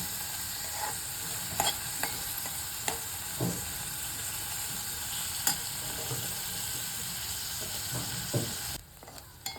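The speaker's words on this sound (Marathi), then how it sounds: "गॅसची फ्लेम थोडी बारीक करायची आणि कांदा मंद आचेवर छान परतून घ्यायचा मऊ मऊसूप होऊपर्यंत" Onion frying over a low gas flame in a pan while being stirred, with a steady soft sizzle throughout and scattered scraping clicks from the spoon, close up, with no voices.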